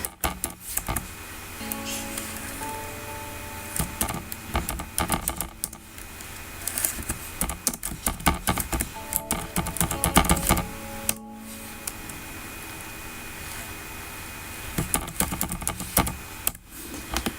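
Computer keyboard typing a revision checklist into a study planner, with bursts of rapid close key clicks, pauses and heavier tapping throughout, no voices.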